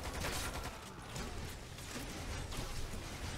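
Sustained rapid gunfire in the video game Lost Planet 2, a dense continuous fusillade of overlapping shots at moderate loudness, with no talking.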